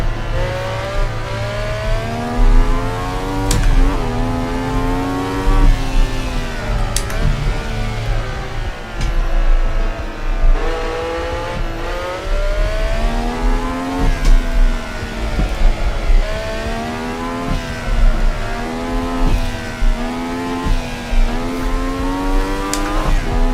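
A vintage GT sports car in a racing game roars through rising and falling revs with gear changes, its tyres skittering and squealing on a street circuit around Naples, loud and continuous without talk.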